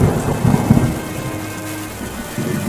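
Heavy rain pours steadily with low rumbling thunder rolling underneath, loud and close throughout.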